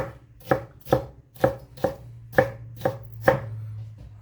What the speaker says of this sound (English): we'll be cutting up some bell pepper